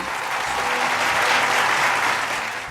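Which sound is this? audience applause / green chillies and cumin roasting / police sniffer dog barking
audience applause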